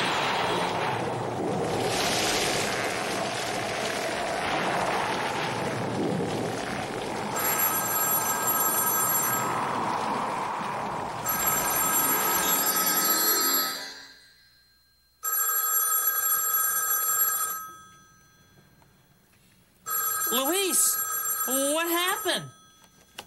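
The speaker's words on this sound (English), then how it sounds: "The phone rang." A telephone rings in repeated bursts with pauses between, partly over a rumbling, noisy background with voices, then rings alone more clearly.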